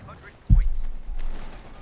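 A Sherman tank fires its main gun in the strategy game Company of Heroes 2: one sudden deep boom, followed by a rumbling tail that fades over the next second of battlefield din.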